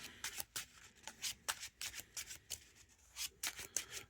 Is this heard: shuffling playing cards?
yes